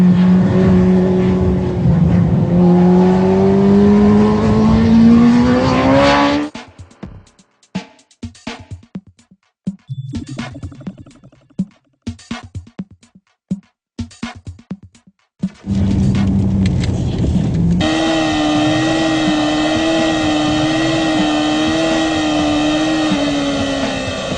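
Racing motorcycle on a track, the Repsol bike, engine note rising and falling with uneven, jerky throttle; loud close pass, then broken choppy bursts, then a steady high-pitched engine drone again.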